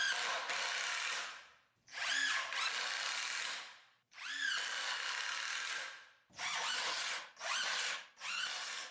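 Power drill pre-drilling holes and driving screws into wooden table legs, several loud close bursts of whirring with brief pauses between, the motor ramping up and down with each run, no talking.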